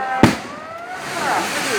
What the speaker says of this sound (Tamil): ஸோ வெடி வழிபாடு பாருங்கள்